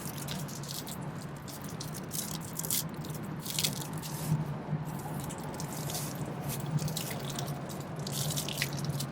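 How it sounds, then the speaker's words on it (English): Thin plastic wrapping is torn and pulled open on a Japanese rice ball, giving soft, scattered crinkles and rustles close by over a steady low hum, with no talking. "the type of packaging that you're supposed to open in a certain way. So you pull this down."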